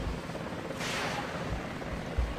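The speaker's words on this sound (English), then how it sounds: "And here's one of those famed American helicopters." An American helicopter in the Vietnam-era war video game Battlefield Vietnam, a low steady rotor rumble with a brief louder whooshing burst partway through, fairly quiet and alone without talk.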